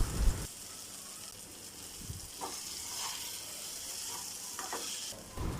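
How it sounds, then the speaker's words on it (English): Potatoes stirred in a pan with sizzling butter and garlic: a steady quiet sizzle with occasional soft scraping stirs, no voices. "Now adding potatoes and mixing it."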